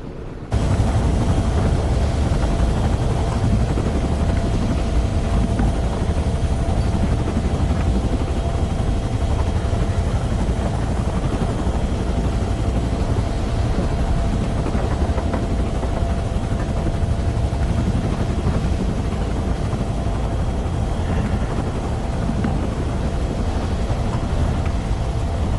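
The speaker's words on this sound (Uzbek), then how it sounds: "Men vertolyotda birinchi marta uchyapman." A helicopter in flight drones as a loud, unbroken engine and rotor roar, heard from inside the cabin, constant and filling the whole stretch without a break.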